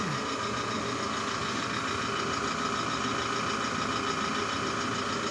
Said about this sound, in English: I got the old Sears going. It puts out really good heat. Nice and quiet.